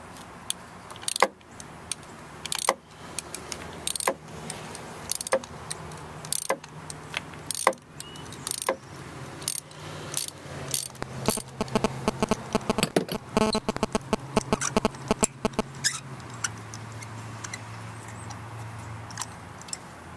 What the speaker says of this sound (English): you're going to get your 5/8 right here and take out the spark plug